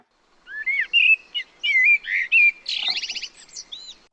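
Song of a forest bird in Málaga, a clear close series of varied whistled phrases followed by a rapid sparkling trill near the end, heard alone over silence.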